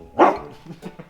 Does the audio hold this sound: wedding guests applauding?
no